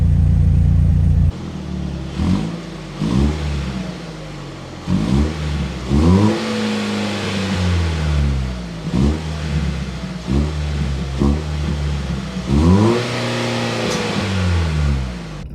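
A 2024 Toyota Tacoma four-cylinder with a MagnaFlow exhaust, heard up close as a deep rumble that swells and falls in a string of repeated revs after a brief steady start.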